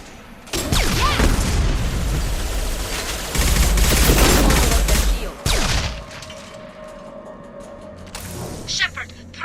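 Shotgun blasts in the video game Mass Effect 2, several heavy booming shots and bursts of gunfire across the scene amid combat noise, with voices talking in between.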